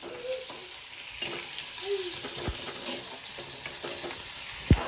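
Onion frying and being stirred in a hot pan for a prawn dish, a soft continuous sizzle with scraping stirs and a sharp clack near the end, close up.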